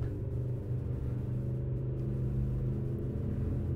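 A Lamborghini Urus in the video game Euro Truck Simulator 2 drones with a steady, low engine rumble at sustained speed, fairly quiet with no talk.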